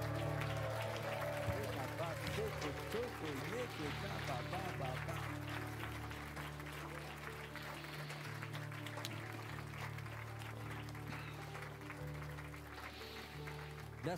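A church congregation at a healing service claps along continuously under music and a loud amplified voice, the applause steady and blended into the worship sound rather than standing alone.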